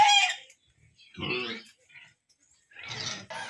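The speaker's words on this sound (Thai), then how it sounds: "หมูป่า" Several bursts of rough, snorting grunts from wild boars, close by, with short quiet gaps between them; no talking.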